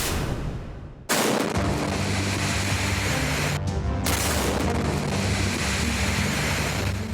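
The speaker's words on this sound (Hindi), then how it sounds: "जोरदार धमाका, चारों तरफ फैली ज्वाला और आसमान में ऊपर तक उठता काला धुआं।" A powerful explosion blast hits with a sudden, sharp, loud onset, then becomes a sustained, dense roar that rumbles on for several seconds, with no voices.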